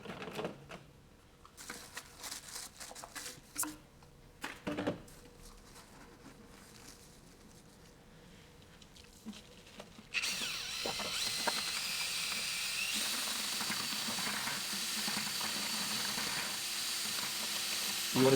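Venetian marmorino plaster being stirred in a bucket, first scattered scraping and tapping, then a power mixer starting up and running as a steady, moderately loud whir.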